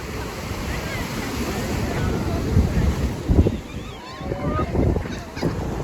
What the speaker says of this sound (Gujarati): જો પાણીના મોજા આવે છે।